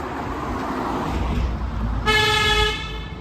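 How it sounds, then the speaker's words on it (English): A car horn honks in a narrow one-lane tunnel: a single sustained blare lasting under a second, loud and close, rising over a steady roar of road and engine noise in the enclosed space. "What the fuck are you honking at?"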